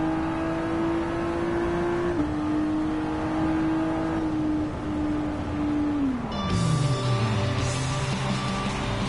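A powerful race car engine in a video game holds a steady, droning rev for several seconds, then drops sharply in pitch and settles into a lower hum.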